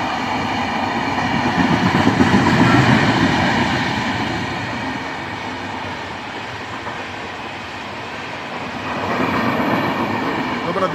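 Train rolling through Uluberia station, a loud, steady rumble with rhythmic wheel clatter that swells and ebbs as the carriages pass close by.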